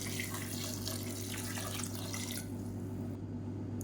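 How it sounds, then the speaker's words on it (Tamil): Water runs steadily into a pressure cooker for tomato soup in a home kitchen, a close, continuous splashing stream that stops after a few seconds and leaves a low hum. "தேவையான அளவுக்கு தண்ணி விட்டுக்கலாம்"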